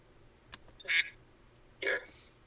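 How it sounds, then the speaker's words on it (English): Two short, loud duck quack sound effects, about a second apart, stand out against near silence. "Did you just put a quack sound?"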